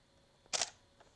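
Camera shutter firing a single shot with a Neewer TT560 off-camera speedlite on a Canon, one short crisp click in a quiet room followed by a faint softer tick.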